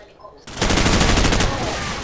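Rapid machine gun fire in a Call of Duty match bursts in suddenly and loud, a dense rattling stream of shots lasting about a second before easing into a sustained roar.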